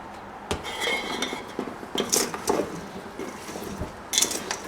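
Roasted potatoes and mushrooms being stirred in a dish, giving a few close, irregular scrapes and clinks of a utensil against the dish with soft rustling between them and no talk.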